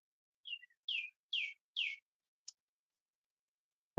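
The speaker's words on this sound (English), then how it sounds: "It's birds in the background." Several short bird chirps sound outdoors behind a house, four quick calls in a row followed by a single brief peep, fairly faint and alone with no talk.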